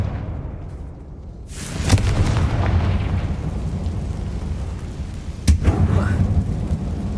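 A Confringo fire spell in the Hogwarts Legacy video game bursts into a loud explosive boom, followed by rumbling debris and a second sharp blast near the end.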